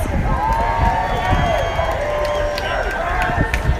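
A large protest crowd in Seattle roars and cheers without pause at close range, with voices shouting and whistling through the dense, steady noise.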